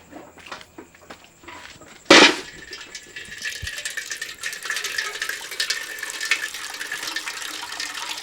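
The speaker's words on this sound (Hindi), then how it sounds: "बेटा ये जरा बाल्टी का पानी बदल दे मेरा बच्चा" Water splashes and pours as a bucket is emptied and refilled in a home, starting with a sudden loud slosh after a quiet stretch, then a steady running, trickling flow that continues throughout.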